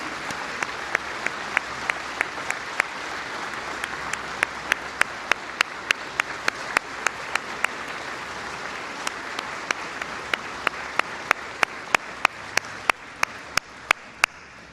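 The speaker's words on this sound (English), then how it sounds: "giving a round of applause to the men and women serving in law enforcement at every level" An audience applauds law enforcement officers at a 2017 White House event, a steady bed of crowd clapping with sharp, distinct nearby claps punctuating it in a regular rhythm throughout.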